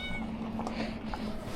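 A cat meows softly during a short pause on an e-bike outing, with a steady low hum underneath and no talking.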